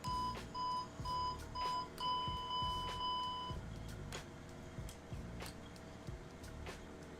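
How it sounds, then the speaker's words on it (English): Takeoff warning test in the Q4XP turboprop cockpit in X-Plane 11: a string of crisp, evenly spaced electronic beeps repeats for about three and a half seconds, then stops, leaving steady cockpit hum. "Take off warning test."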